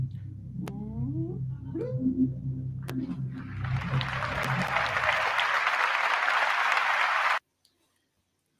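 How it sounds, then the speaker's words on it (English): Audience applause swells in after some low tonal sounds and animal-like cries, building into a loud, dense clapping roar for a few seconds before cutting off abruptly into silence. "did you notice the applause?"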